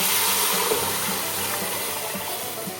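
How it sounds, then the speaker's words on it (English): Water pours from a cup into a pot of kadhi, an Indian yogurt and besan curry over a medium flame, making a steady, loud, rushing splash with no talk. "I'm adding another cup of water."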